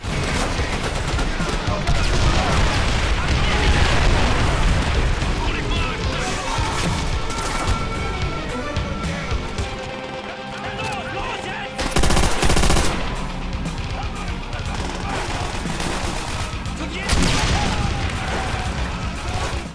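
Call of Duty: World at War battle with dense machine-gun fire, gunshots and crashing explosions over a driving guitar music bed, loud and continuous with sharper blasts near the middle and end.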